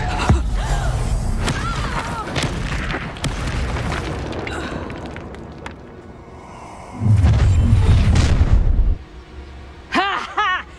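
Bombarda and Reducto explosion spells go off in the Hogwarts Legacy video game, with sharp blasts and one heavy, sustained boom amid game effects and chimes.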